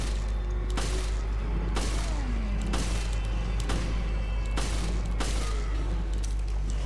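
Gunfire in the video game Resident Evil Revelations: about six sharp shots at fairly even intervals, loud over a steady low in-game hum, with no talking.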